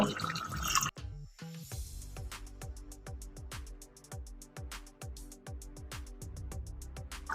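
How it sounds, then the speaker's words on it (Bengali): Water is added to a pot of mutton and chana dal curry as a string of quick, distinct drips and plops, close and fairly soft, after a brief louder clatter at the start. "এবার আমি একটু জল দেব"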